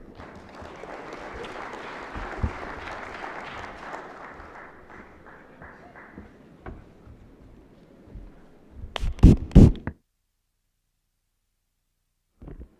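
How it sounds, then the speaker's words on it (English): An audience at a national election conference applauds, a sustained round of clapping that gradually thins out, followed by a few louder bursts of handling noise before near silence. "A good hand of applause."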